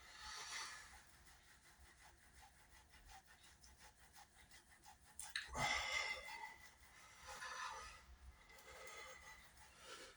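A raw potato is rubbed against a grater for hashbrowns, giving quiet, repeated rasping strokes in an even rhythm, with one louder scrape partway through.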